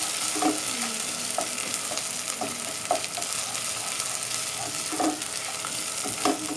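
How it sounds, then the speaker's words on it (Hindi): Food, with garlic, sizzles steadily in a hot pot while a utensil scrapes and stirs at irregular intervals, close by and without talk, while making handi kabab. "थोड़ा सा इसे हम फ्राई करेंगे, फिर इसके बाद हम तमाम ड्राई मसाले शामिल करेंगे।"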